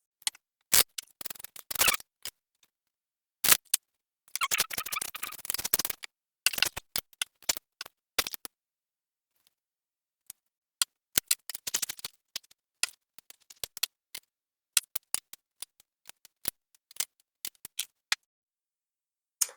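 Tarot cards shuffled and drawn: crisp, close card riffles and flicks come in irregular short bursts separated by silence, with one longer shuffling run in the middle.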